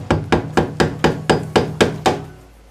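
Eight sharp hammer strikes land in a steady rhythm, each a loud, close metallic-wooden whack with a short ring, the last one fading out.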